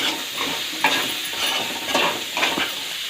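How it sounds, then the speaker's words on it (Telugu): Ginger garlic paste masala for an aloo masala curry sizzles in a pan as a spoon stirs it, with about four rhythmic scraping strokes over a steady close frying hiss and no voices. "వీటన్నింటినీ ఒకసారి కలుపుకుందాం"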